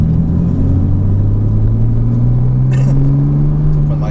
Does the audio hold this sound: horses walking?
no